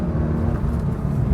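A Singer-restored Porsche 911 engine drones steadily from inside the car while driving, a dense low rumble with a warm mid-range growl and no talk.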